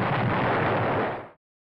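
A grenade blast during an ambush by the Chinese army in wartime, a single loud, dense explosion with a sustained roar that cuts off abruptly after about a second and a half.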